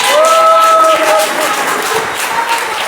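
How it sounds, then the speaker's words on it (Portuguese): Church congregation applauding at an evening worship service in Brazil, a broad wash of clapping and crowd noise that runs steadily throughout, with some voices mixed in. "Aplauda e glorifica o Senhor desta noite."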